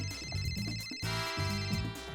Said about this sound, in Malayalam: സർ, മിസ്റ്റർ ലീ അങ്ങേ ഫോണിൽ വിളിക്കുന്നു.